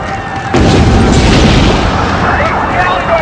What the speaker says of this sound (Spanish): el lugar es sacudido por otra poderosa explosión